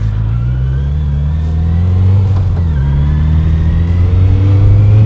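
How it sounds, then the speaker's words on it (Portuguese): A motorcycle engine idles loud and close, then revs up in steady pulls, its pitch rising and falling. "só pra dar uma girada no motor"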